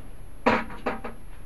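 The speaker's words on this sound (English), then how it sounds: "Open the door like a normal person." A door is opened in a quiet room, caught by a mini HD DVR camera's sound sensor: a near knock-like clunk, then two softer latch and hinge clicks a moment later, with no talking.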